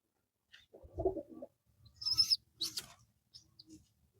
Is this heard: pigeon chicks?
yes